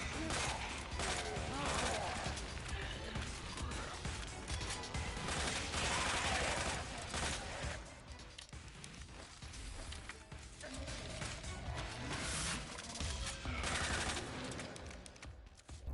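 Dense gunfire from the Resident Evil 2 Remake DLC as shots hit zombies' legs, rapid bursts and single cracks rolling on loudly for the whole stretch with little pause, some crashes mixed in and no talk.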